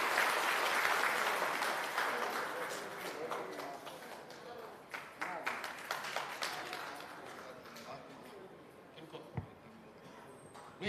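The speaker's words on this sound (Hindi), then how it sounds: "इनके नाम पर ताली बजाइए।" Crowd applause at a Jan Suraaj political rally in Gopalganj, loud at first then thinning into scattered individual claps over several seconds.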